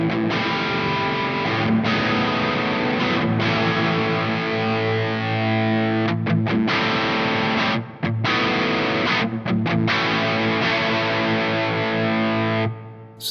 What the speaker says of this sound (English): So there you get a little bit of the effect, like almost like a room reverb